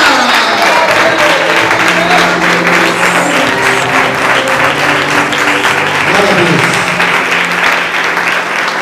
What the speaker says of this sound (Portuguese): Bata palmas e dá glória.